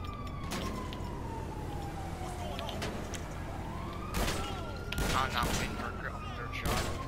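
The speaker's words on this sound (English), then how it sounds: "I'm shooting its engine up." Gunfire aimed at a car engine in the game GTA 5, with several bursts of shots near the end over a steady background of game noise and a siren-like tone.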